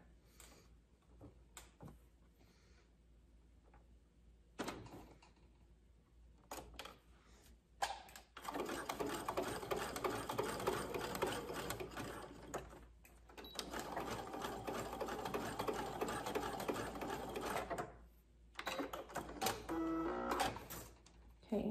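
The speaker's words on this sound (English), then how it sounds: "we're gonna zigzag stitch that together" A sewing machine zigzag-stitches a loop of elastic for a swimwear hem, starting with a few short bursts and then running in long steady buzzing stretches with brief pauses between them, close and alone.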